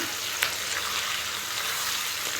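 Meat frying in a pan for a Sunday meat curry, a steady dense sizzle with crackling spits and one sharper pop early on, loud and continuous with no talk.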